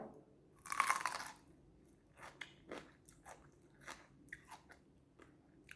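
A crunchy green apple is bitten with one loud, close crunch, then chewed in a series of moist crunching bites at an irregular rhythm, with no talking.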